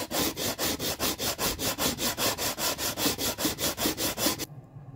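Blackwood for a guitar build is rubbed flat across a sanding surface in quick, even back-and-forth strokes, about twenty close rasping passes that stop abruptly near the end.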